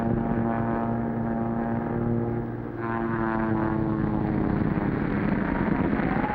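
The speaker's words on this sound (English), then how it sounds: "Something's wrong with Barton's plane" Propeller airplane in trouble, its engine a loud continuous droning hum with a steady tonal whine, dipping briefly midway before resuming at full strength, with no voices.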